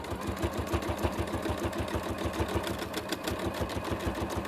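A sewing machine stitches a small piece of fabric for a punch pad, running at a slightly increased speed. It gives a steady, fast mechanical chatter up close, loud and continuous throughout.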